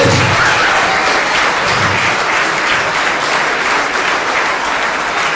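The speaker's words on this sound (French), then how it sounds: "Je crois qu'on peut les applaudir encore plus fort quand même" Loud, sustained applause from an audience fills the hall for the young prize winners at the 2017 Ludix youth prize ceremony, dense and steady from start to finish with no one talking over it.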